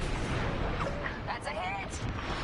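Enemy ship exploding in Star Wars Squadrons space combat, a rumbling blast set within continuous engine roar and laser fire, with radio voices talking over it.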